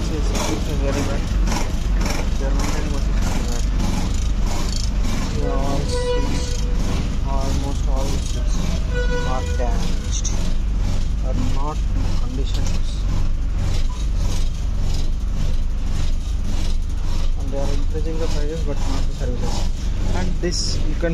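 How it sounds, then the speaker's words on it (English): Inside an ordinary non-deluxe bus on the road from Chennai to Tirupati, the engine drones in a loud, steady rumble with constant rattling and road noise throughout. "This is like ordinary bus sound."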